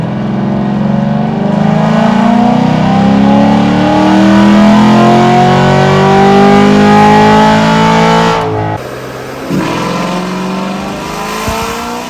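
A cammed C7 Corvette engine revs hard through a dyno pull, its loud, rising roar climbing steadily for several seconds before cutting off abruptly and dropping to a quieter rumble.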